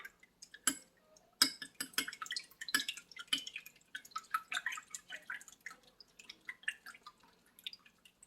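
A small sample of liquid olive oil castile soap paste being stirred into water: quiet, close clinks, taps and drips that come in an irregular patter, with no voices.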